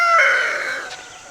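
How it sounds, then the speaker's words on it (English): A loud rooster on a backyard farm crows once, a single harmonic call that starts strong and slowly fades, heard close and alone. "He's such a loud rooster."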